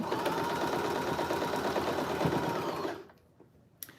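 A Janome sewing machine runs a line of stitching in a fast, even, close mechanical chatter for about three seconds, then halts, followed by near silence and a single small click.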